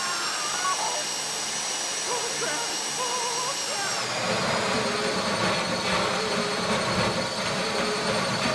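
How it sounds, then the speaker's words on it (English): A safety-deposit box drill in a GTA Online Fleeca Bank heist, a steady high whine that jumps to a louder, rougher grinding roar midway and keeps running. "How you doing with that drill?"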